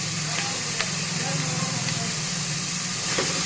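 Ginger garlic paste frying with softened onions for a mutton lung gravy, a dense steady hiss and sizzle with a few faint stirring taps, up close.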